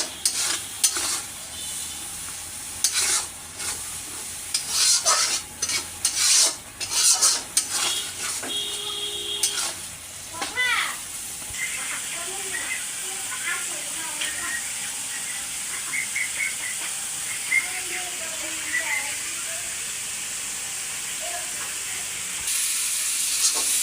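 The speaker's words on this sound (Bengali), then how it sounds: "এখন কিন্তু মশলাগুলো ভালো করে কষিয়ে নেব" Spices for a chicken kosha curry sizzle and fry in a pan while a utensil scrapes and stirs with clattering strokes, busier early on and settling into a steady sizzle, no voices.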